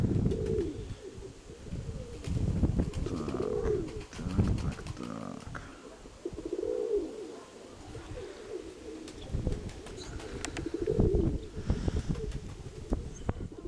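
Pigeons coo in repeated low, throaty phrases close by, with occasional soft flutters of wings as birds settle.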